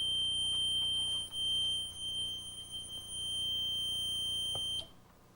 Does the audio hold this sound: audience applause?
no